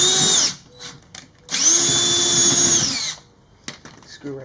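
A power drill drives a screw through a Rennwagen rear diffuser on a GTI, two whirring bursts, the second longer, followed by a short zip, close and loud with no talk.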